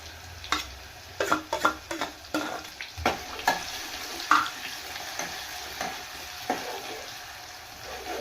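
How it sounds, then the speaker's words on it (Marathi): Onion, ginger and garlic paste frying in a pan at home, with a steady sizzle broken by repeated scraping stir strokes close by, fading somewhat after the first few seconds; no one talks. "यामध्ये आता पेस्ट टाकायचा कांद्याचा, अद्रक लसूणचा."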